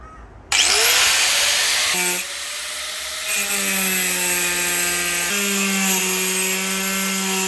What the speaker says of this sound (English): I'm just going to go ahead and cut the first layer of steel off the guard.